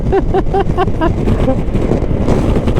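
Strong, steady wind buffeting the microphone over a rumbling motorcycle engine on the road, with brief tonal beeps near the start.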